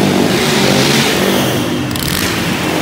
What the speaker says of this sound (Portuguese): Sou a moto do Pivete Moreira